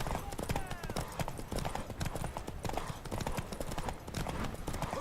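Horse hooves clip-clop in a rapid steady rhythm inside a video game, close and distinct, with game character voices speaking over the hoofbeats.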